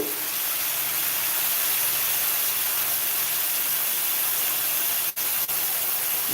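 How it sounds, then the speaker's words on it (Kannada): Tamarind juice hits a hot pan of green chillies and onions, setting off a loud, steady sizzling hiss that runs without a break. The hiss cuts out twice for an instant near the end. "ಈಗ ನಾನು ಹುಣಸೆ ರಸ ಹಾಕ್ತಾ ಇದ್ದೀನಿ"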